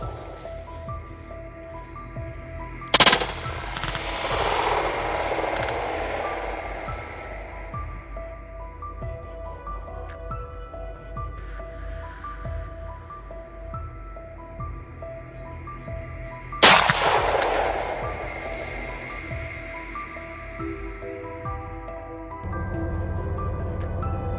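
Two sharp, loud rifle shots ring out about fourteen seconds apart during a wild hog hunt in Texas, each followed by a brief echoing decay over quiet outdoor background with a faint tone.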